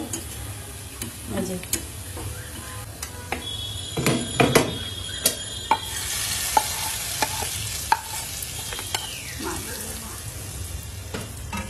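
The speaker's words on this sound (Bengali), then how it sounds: "এই যে একটু বাগার দিয়ে দিল পেঁয়াজ দিয়ে" Onions browning in hot oil with cumin powder added for a tempering, giving a steady sizzle broken by sharp ticks and clinks of stirring, with a voice talking faintly in the background.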